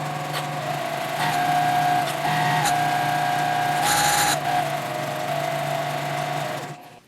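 A sewing machine stitches two fabric circles together a quarter inch from the edge, a continuous fast whirring hum with brief pauses and pitch shifts, close and loud, stopping right at the end.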